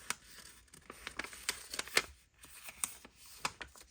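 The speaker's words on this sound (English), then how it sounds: "Fold this up now." Paper folded and creased by hand while making a Tim Holtz pocket folio: a quick run of close, crisp rustles and crinkles with light taps, busy and uneven, no voices.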